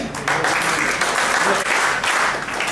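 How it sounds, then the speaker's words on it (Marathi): An audience at a prize distribution ceremony claps loudly and continuously, a dense, steady wash of applause with some voices mixed in. "जोरदार टाळ्या वाजवा"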